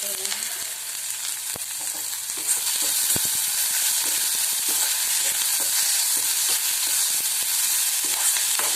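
Mixed vegetables and onion sauté in a hot pan for fried rice, giving a loud, continuous sizzle. Faint stirring clicks come through now and then, close up and without voices.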